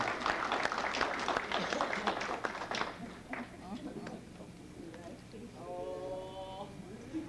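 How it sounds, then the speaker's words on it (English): Applause welcomes a speaker's wife to the microphone at an evening event; dense clapping for about three seconds, then thinning out and fading as voices and room noise take over. "Give her a nice round of applause, and she may come into the mic"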